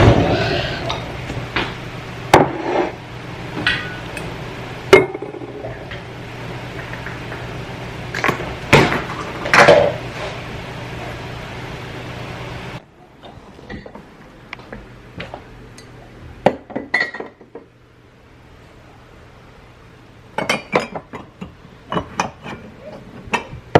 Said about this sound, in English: now I'm going to unload the dishwasher and fill it up again with this lovely sink full of dishes